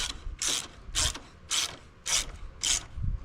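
A ratchet snugging hex head bolts on a crash bar of a 2023 Harley-Davidson Low Rider ST gives six evenly spaced bursts of rapid pawl clicking, close and clear, with no voices.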